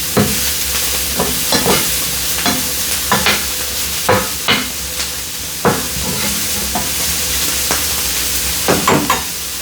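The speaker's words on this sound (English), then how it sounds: "And as you flipping them, you can tell the tenderness of your Brussels sprouts at that time." Brussels sprouts sizzle and fry steadily in a hot pan while being flipped, with repeated scraping and clattering stir sounds breaking through the constant crackle, close and fairly loud, no talking.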